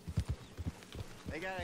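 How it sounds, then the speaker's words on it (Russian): Horse in Red Dead Redemption 2 walking, with a series of soft clip-clop hoof beats, then a brief whinny-like tonal call at the end, faint and under people talking. "Ну, это лошадь."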